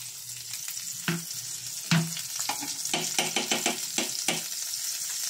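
Pork steak frying in butter in a pan, a steady bright sizzle broken by repeated clacks and scrapes of a utensil stirring and turning the meat, close and alone.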